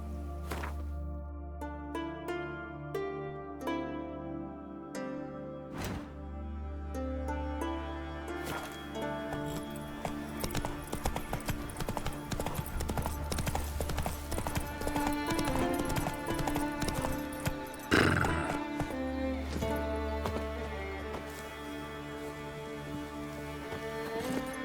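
Roach, a horse in The Witcher 3, clip-clops along with rhythmic hoofbeats that quicken and blend with music, and a brief whinny stands out partway through.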